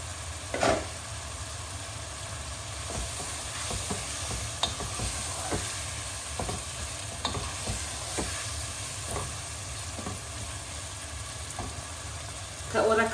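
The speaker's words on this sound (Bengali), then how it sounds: "এখন আমি চিকেনটা দিয়ে দিচ্ছি।" Chicken breast fries in spiced oil in a pan, giving a steady sizzle with scattered stirring clatters, close and fairly quiet, with no talk.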